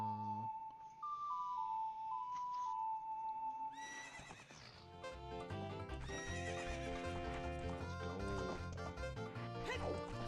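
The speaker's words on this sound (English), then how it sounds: "Get on the horse, dude." Horse in The Legend of Zelda: Ocarina of Time neighs loudly, then hooves gallop in steady clip-clop beats under continuous game music.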